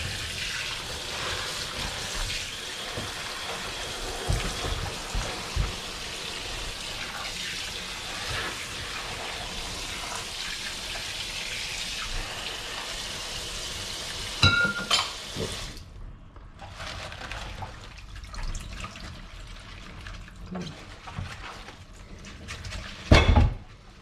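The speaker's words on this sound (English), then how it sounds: "I'll just run some cold water over her" Cold tap water runs over fresh salad vegetables at a kitchen sink, a steady rushing splash that continues for most of the stretch, with a few clinks of dishes and the flow thinning near the end.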